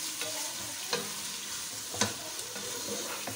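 Meat for Bohra daal gosht fries in a pan with ginger, garlic and spices, giving a steady close sizzle broken by a few scraping stirs, with no voices.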